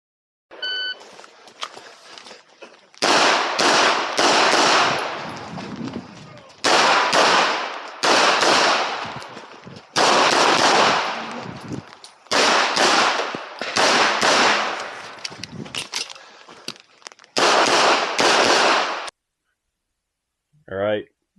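Pistol shots ring out in loud, rapid strings on an IDPA match stage, several bursts of shots broken by short pauses as the shooter moves, with a timer beep at the start and outdoor rustle between strings.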